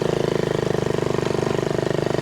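A Honda Z50A mini motorcycle's small engine revs hard in a steady, rapidly pulsing buzz as the rider launches it, close and continuous for a couple of seconds with no talking.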